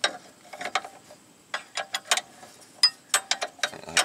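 A socket wrench ratchets a nut off the control arm of a 2005 Chevy Aveo, making close, crisp clicking bursts in short irregular strokes with brief pauses between them.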